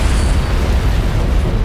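Antimatter charge detonating aboard a ship in Halo CE, a dense, sustained roaring rumble of explosion and rattling machinery that fills the space, loud and steady throughout with no voices.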